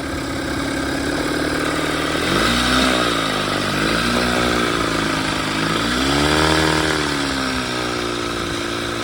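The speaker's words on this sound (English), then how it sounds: "your motor ought to run like this" A vintage outboard motor idles steadily and close by, its tone dipping and rising a few times as the speed wavers, running alone with no talk.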